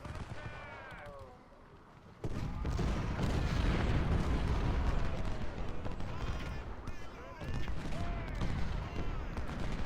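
Cannon and musket fire from a Civil War battle in Ultimate General: Civil War at Chickamauga, a dense continuous rumble of distant booms and crackling volleys that swells sharply after a quieter opening, with faint voices in the mix.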